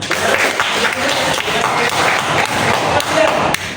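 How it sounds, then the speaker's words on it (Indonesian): Students clapping together in a classroom, a lively burst of many hands with some thumps and voices mixed in, continuing steadily for a few seconds. "tepuk tangan"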